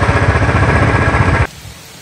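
Heavy rain pours steadily near Malayattoor lake, a dense close hiss that cuts off abruptly after about one and a half seconds, leaving quiet background.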